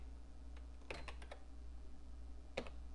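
A few soft, scattered keystrokes on a computer keyboard while an SQL query is typed and Enter pressed, faint against a low steady hum.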